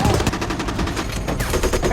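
Rapid bursts of gunfire aimed at Nazis, a continuous dense fusillade of overlapping shots that stays loud and close for the whole stretch, with faint voices mixed in.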